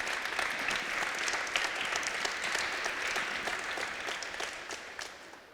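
A church congregation claps in praise, the dense applause holding steady and loud before tapering slightly toward the end.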